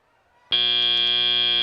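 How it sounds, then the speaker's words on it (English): In a FIRST robotics competition arena, a loud electronic buzzer sounds abruptly after a quiet lead-in and holds as a steady, harsh tone to signal the end of the autonomous period. "As the buzzer sounds,"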